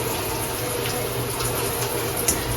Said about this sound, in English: So I'm gonna get some cold water